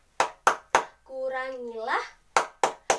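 Children clap a flood-prevention clapping chant: three sharp hand claps, a child's sung phrase, then three more claps in the same rhythm.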